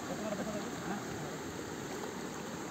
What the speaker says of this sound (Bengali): এই দেখেন স্রোত, জলের ডাক, এই দেখেন এই ধার দিয়ে জল আসছে